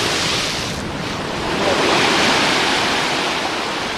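A big wave breaks on Tarazut Little Beach in Morocco, a loud, close, broadband rush of surf that swells to a peak midway and washes on, with wind buffeting the microphone and no talking.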